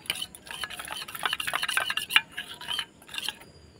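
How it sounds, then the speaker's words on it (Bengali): Half a spoon of cornflour and oil being stirred together in a bowl with a spoon, giving quick clinking, scraping strokes in an irregular rhythm, close by and fairly soft, with no talking. "এখানে হাফ চামচের মতো কর্নফ্লাওয়ার দিয়ে তেলটাকে গুলিয়ে নিব"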